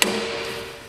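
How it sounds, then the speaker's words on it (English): A brass hammer strikes a tractor steering shaft once, a sharp close metallic tap at the start that rings briefly and decays over the following second, with no other sound. "Now I'm going to take a brass hammer and try to beat that the rest of the way"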